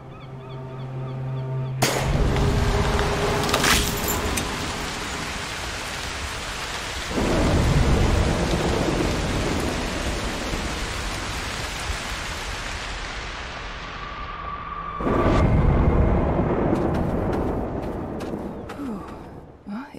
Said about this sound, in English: I don't think I will be able to avoid starting a storm for this one